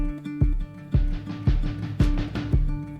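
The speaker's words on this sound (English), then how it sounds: "I added a big build into my 5 sus chord on the snare." A snare build played into a fifth-chord sus voicing in Logic Pro, hits recurring roughly every half second over sustained chords, each with a bright splashy tail, loud and with no voice.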